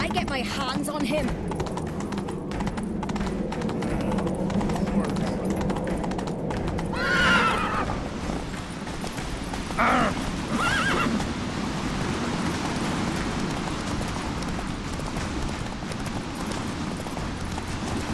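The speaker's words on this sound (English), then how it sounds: "Grab a horse, we'll chase him down." Horses from the video game The Witcher 3 clip-clop steadily through a long stretch of hoofbeats, with a whinny partway through, set against a dense game soundscape and voices in the background.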